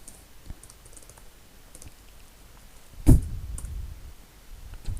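Soft, quiet keyboard clicks as MASM 8086 code is typed on a computer, scattered light taps with one louder thump partway through.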